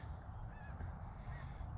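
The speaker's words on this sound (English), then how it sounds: "There must be 200 geese up there" Flock of around two hundred geese flying over a soybean field near Memphis, Tennessee, giving faint, distant honks above a low outdoor rumble.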